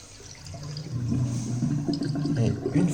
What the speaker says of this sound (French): vous allez devoir vider l'eau